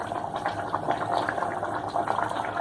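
Chettinad mutton curry, a spicy Indian mutton gravy, simmering and bubbling in a pan, a continuous close hiss and gurgle of boiling liquid.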